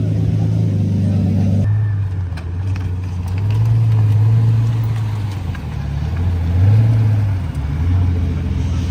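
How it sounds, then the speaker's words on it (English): A green manual Mercedes pulls away with a steady low engine rumble that swells and eases as it drives out, with a quieter stretch after a sudden drop in background noise near the start. "So the green manual Mercy is heading out."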